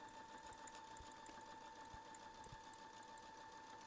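Baby Lock Verve sewing machine stitching through three layers of heavy denim, a steady close mechanical hum with a fast, even needle rhythm and occasional thumps, running alone with no talk.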